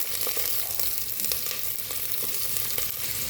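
Onion frying in hot mustard oil with cumin seeds, a dense, loud, close sizzle with faint stirring taps throughout, no voices.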